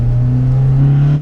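A Toyota Starlet SR with a swapped A111 Toyota Corolla 4AGE engine and 5-speed gearbox, naturally aspirated, makes a loud, close, steady engine drone that rises slightly in pitch before cutting off.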